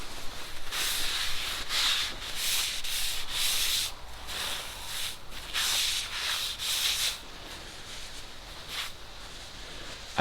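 A front suspension part being scrubbed clean by hand during car suspension installation, with loud, close, steady rubbing strokes repeating in a rhythmic back-and-forth pattern for the full stretch, with no talk.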